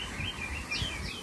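Small birds chirp in a zoo aviary with short high tweets and calls repeating over a steady background hum, moderately distant and fairly faint.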